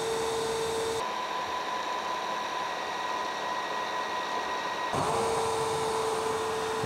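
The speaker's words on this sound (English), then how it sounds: "I started another self-cleaning cycle. So what it's gonna do, it's gonna put a bunch of solution on the roller, and then it's gonna suck it up." Tineco iFloor 3 Breeze cordless floor cleaner running its self-cleaning cycle, wetting and sucking the roller: a steady whirring motor drone with a whine, shifting pitch at one point then returning, constant and close.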